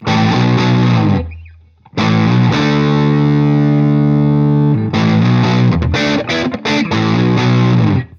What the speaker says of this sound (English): Without the EQ pedal, that's how the amp sounds.